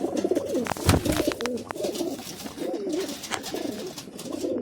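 Several pigeons coo repeatedly at close range, their soft rolling calls overlapping and rising and falling steadily with no voices present, apart from one brief sharper bird call.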